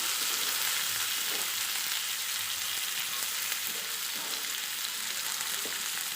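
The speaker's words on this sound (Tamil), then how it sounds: "இப்போ வந்து நம்ம தக்காளியை போட்டு நல்லா வதக்கிட்டோம்" Chopped tomatoes sauté in a pan with ginger garlic paste, making an even, moderate sizzle that runs without a break, with faint stirring under the hiss.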